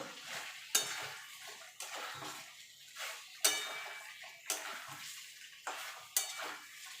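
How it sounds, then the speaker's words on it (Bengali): Fried potatoes are stirred into spice paste in a pan for a white aloo dum. A spatula scrapes and clanks against the metal pan in about seven sharp, regular strokes over a soft background sizzle. "এখানে আলুটা যে ভেজে রেখেছিলাম সেটা দিয়ে দেবো, দিয়ে ভালো করে মিশিয়ে নেব"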